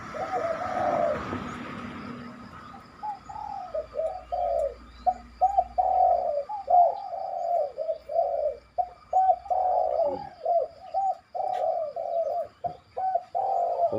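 A spotted dove calls in a steady series of soft, low coos repeating through the whole stretch, close and clear against a quiet background.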